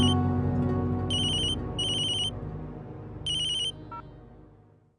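A telephone ringtone chirps in short repeated bursts over a dense bed of background music in a Tamil television drama scene, with the rings standing out clearly and fairly close.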